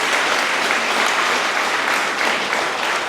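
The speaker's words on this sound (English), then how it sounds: "So I know we just did it again, but another big round of applause." Wedding guests at a reception burst into a round of applause, dense, steady clapping from a full room that holds evenly throughout with no voices on top.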